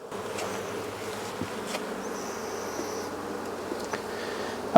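Honeybees buzzing around a hive, a steady close drone of many insects with individual bees passing near the listener, ending in a brief louder knock.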